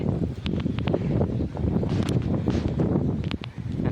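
Wind gusts steadily across an open farm field, a continuous rushing roar with brief rustling bursts that come up close against the microphone.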